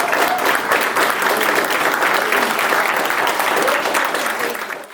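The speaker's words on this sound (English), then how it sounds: "giving Robin another huge round of applause." Steady, loud applause from an audience fills the whole stretch, dense clapping that fades slightly at the end.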